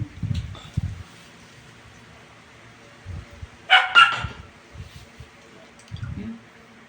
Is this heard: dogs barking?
yes